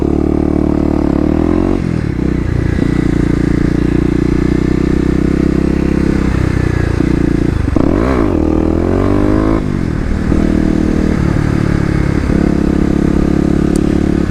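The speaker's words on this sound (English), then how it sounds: "Trying to get more comfortable revving the bike out" A 2018 Kawasaki KLX250 dirt bike revs hard while riding off-road through an urban area, its engine loud and close, climbing and falling in pitch with steady throttle surges and a sharp rev spike near the middle, with some clattering.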